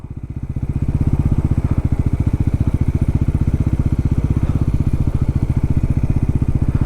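A motorcycle riding on a slippery mountain road from Khotang to Jhapa, its engine putting out a loud, close, steady rapid thumping pulse throughout.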